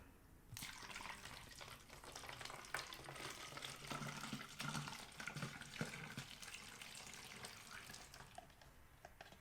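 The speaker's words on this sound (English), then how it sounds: "I'll go ahead and pour in the tap water." Tap water runs steadily into a spray bottle, a continuous close hissing splash lasting several seconds before stopping.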